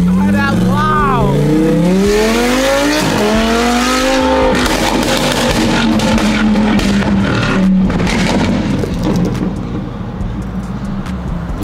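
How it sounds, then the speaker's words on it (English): A Lamborghini Huracan engine revs hard and very loud, pitch sweeping up and settling into a sustained roar close by, while excited voices shout over it. "This is the loudest Lamborghini Huracan ever."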